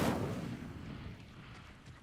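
The Incendio fire spell bursts out in Hogwarts Legacy, a sharp, booming blast at the start that fades into a rumbling tail over about two seconds.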